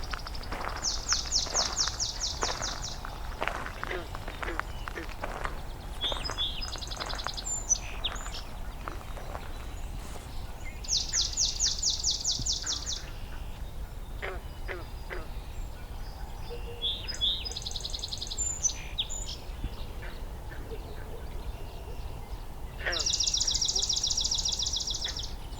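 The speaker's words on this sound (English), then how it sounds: "and a song sparrow as well." A song sparrow sings repeatedly outdoors near a wetland, several clear phrases of buzzy trills and sharp notes spaced across the stretch, moderately close against a constant hiss of insects and ambient noise.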